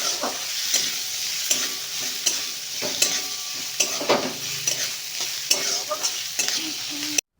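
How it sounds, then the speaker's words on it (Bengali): Chopped onion stir-fried with crushed garlic and chili in hot oil for drumstick-flower bhaja gives off a steady close sizzle, broken by repeated scraping strokes of a spatula against the pan, with no one talking. "রসুন এবং লঙ্কাটি হালকা ভাজা হয়ে গেলে তার মধ্যে দিয়ে দিতে হবে কুচি করে রাখা পেঁয়াজটি, দিয়ে ভালো করে একসঙ্গে ভাজতে হবে।"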